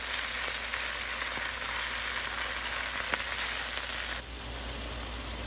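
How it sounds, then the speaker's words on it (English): Spinach sautéing in olive oil in a pan gives a soft, even sizzle that holds steady throughout, fairly quiet and close, with a faint constant hum underneath and no talking. "Now I added the spinach and I'm going to saute that until it becomes slightly wilted."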